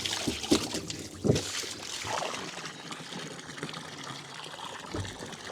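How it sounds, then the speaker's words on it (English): Water pours into a farm livestock trough during daily chores, making soft irregular splashing and trickling, fairly faint, with a few louder sloshes early on and no talking. "Changing out the water, filling up the troughs back up."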